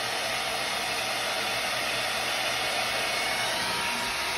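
A handheld hair dryer blows hot air in a steady, even whoosh with a constant motor whine, running continuously and fairly close, with no talking.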